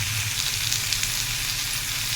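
Chutney ingredients with added tamarind and coriander leaves sizzle and fry in a pan, a steady, dense crackling hiss heard close up and alone, with no talk.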